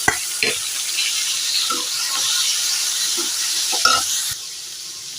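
Boiled radish hits a hot pan of mustard seeds, onion, green chili and curry leaves for a radish and moong dal kootu, giving a loud, steady sizzle with brief stirring clatters throughout.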